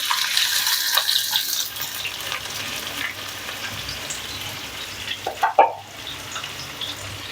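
Onions hit well-heated oil in a pan for a reshmi chicken masala curry, giving a close, steady, hissing sizzle with a brief clatter of stirring near the end.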